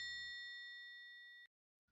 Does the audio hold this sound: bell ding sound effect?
yes